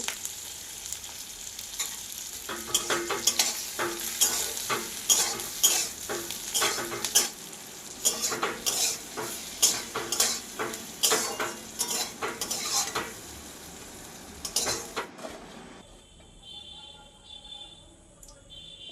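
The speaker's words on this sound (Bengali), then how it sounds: "আর দেব চার পাঁচটা কাজু বাদাম দিয়ে সামান্যক্ষণ ভেজে নেব" Whole spices and a few cashews fry in hot oil in a kadai. A utensil scrapes and stirs in repeated strokes over a constant crackling sizzle, and the sound settles to a quieter hiss at the end.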